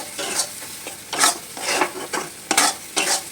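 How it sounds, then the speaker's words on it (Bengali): Spice paste stir-fried in a pan, a close sizzling hiss broken by repeated bursts of stirring and scraping at an uneven, roughly half-second rhythm, with no voices. "আমি মশলাটাকে ভালো করে কষিয়ে নিচ্ছি"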